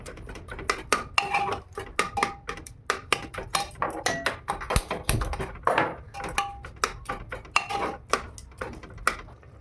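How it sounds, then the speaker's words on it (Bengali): Vegetables being stirred and mixed in a pan for pav bhaji, a steady run of close metallic clinks and scrapes from a spoon against the pan, repeating in quick irregular strokes with no talking. "এরপরে সবজিগুলো একটু করে নেব, মিক্সড করে নেব"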